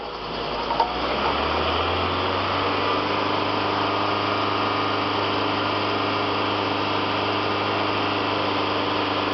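A car engine runs steadily and loudly, its tone rising slightly as it accelerates early on, then holding a constant hum, during a bad oxygen sensor heater check.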